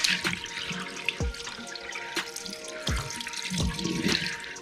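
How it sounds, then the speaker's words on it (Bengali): Running tap water splashes over an aftermarket motorcycle air filter being washed in a sink, with gurgling, dripping and intermittent clunks as the filter is handled close by. "এদিকে ভালো করে ওয়াশ করে নেব।"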